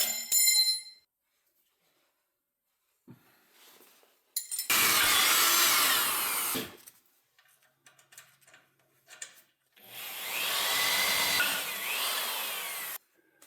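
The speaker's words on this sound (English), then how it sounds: "so we got all 3 holes drilled through the frame here." Power drill boring holes through a steel tractor frame while fitting a step, two loud drilling bursts of a couple of seconds each separated by quiet, close by, with small clinks between.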